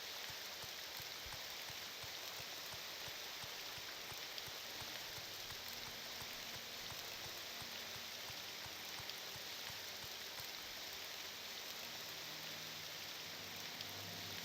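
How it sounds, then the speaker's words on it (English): Steady, loud rain from the video game Elder Scrolls Morrowind, an even hiss of falling drops that holds without a break for the whole stretch, with no talking. "It's the rain volume that's so loud."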